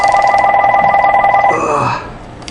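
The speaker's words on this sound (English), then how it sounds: "Sorry about the phone, guys." A telephone rings steadily and fairly loudly indoors at a workbench during the fitting of night sights on a Springfield XDm 3.8 pistol, the repeating electronic bell pattern running for about a second and a half before breaking off into quieter room noise.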